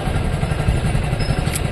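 A Honda Activa scooter's engine runs nearby, a steady loud mid-pitched motor drone with slight rattling, no voices.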